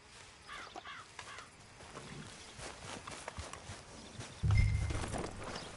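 Horse hooves clip-clopping in Red Dead Redemption 2, a series of light, uneven steps with bird caws in the background and a heavier thud near the end.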